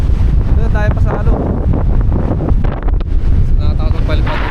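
Strong wind gusting across Patapat Bridge in Ilocos Norte, a loud, rough, broadband roar buffeting the microphone throughout, with people talking beneath it.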